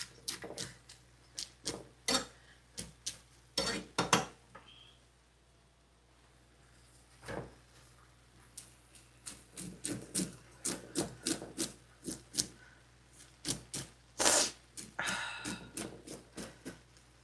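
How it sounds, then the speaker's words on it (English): A knife scraping corn milk off stripped corn cobs, with repeated rasping strokes in irregular bursts, close and fairly quiet, pausing briefly between runs of scrapes. "Just take our knife and scrape what was left behind, which is corn milk."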